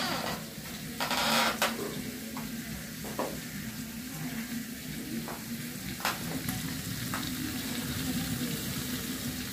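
Chicken fries in a large pot over browned onions, a steady close sizzle with a few clinks and scrapes of a spoon and a faint voice underneath.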